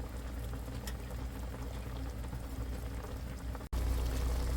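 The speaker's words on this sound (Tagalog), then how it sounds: "Ayan, kulong-kulo na at medyo paigahin ko para yung lutong-luto talaga." Chicken adobo boils hard in a pot, giving a continuous dense bubbling hiss with a low rumble. It stays steady throughout, broken by one very brief dropout near the end.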